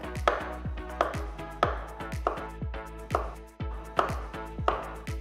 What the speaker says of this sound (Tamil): இப்போ இதை சின்ன சின்னதாக மெலிசாக கட் பண்ணிடுங்க